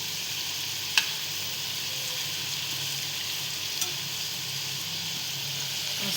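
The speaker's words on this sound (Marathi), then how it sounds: "चांगले फ्राय झाले पाहिजे आपले पण" Potato fingers frying in oil over medium heat, a steady, dense sizzle close by throughout, with a couple of brief clicks and no voices.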